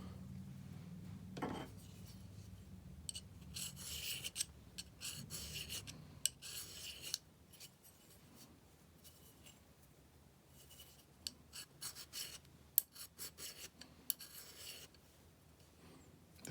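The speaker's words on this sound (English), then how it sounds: "This side of the file isn't as sharp as this side, or it's got more aluminum in it, one or the other." A hand file worked across flat aluminium, giving close, scratchy rasping strokes in uneven bursts with pauses between, fairly quiet and without speech.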